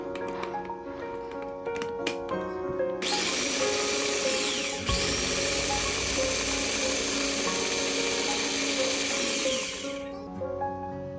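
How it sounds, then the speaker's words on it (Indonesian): Electric food chopper whirring at high speed as it grinds fish cake dough until smooth, a loud continuous motor whine lasting several seconds between quieter handling noises and clicks. "Kemudian kita chopper kembali sampai benar-benar halus ya."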